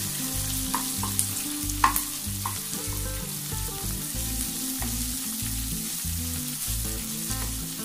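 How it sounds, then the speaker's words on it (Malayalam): Chopped onions fry with curry leaves in a pan for tomato rice, a steady loud sizzle running throughout while a utensil stirs them with scraping taps and a low rhythmic hum underneath. "അപ്പൊ സവോളയും കൂടെ ചേർത്തിട്ട് ഇത് നന്നായിട്ട് ഇളക്കുക."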